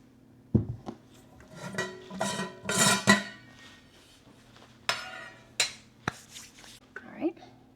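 Mixing bowls knocked and slid across a kitchen counter while baking cookies, giving several sharp clinks and scrapes in scattered bursts at close range, with a voice speaking between them.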